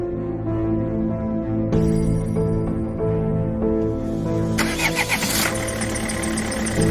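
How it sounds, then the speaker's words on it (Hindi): Car engine cranking and catching, idling with a steady hum, then revving up louder as the car pulls away, with no talking over it. "गुल्ली बुल्ली गाड़ी में बैठकर शॉन के घर की तरफ निकल जाती हैं।"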